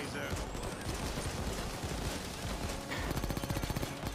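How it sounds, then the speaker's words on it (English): Dense, continuous gunfire from the PayDay 2 VR shooter, rapid automatic bursts stacked over one another with a driving rattling rhythm, dense and loud throughout with a faint voice briefly in the mix. "Not hitting him, but I'm shooting him"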